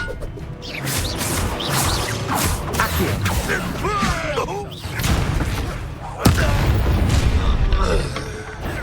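An Expelliarmus spell is cast during a duel in the video game Hogwarts Legacy, amid a dense, loud wash of magical blasts, booms and crashes, with a sharp impact about two-thirds of the way through.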